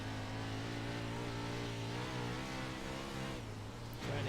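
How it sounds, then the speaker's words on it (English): A wingless 360 sprint car engine drones steadily with rising and dipping pitch as the throttle is feathered on and off, heard from inside or close to the car during warm-up. "Hear him feathering that throttle."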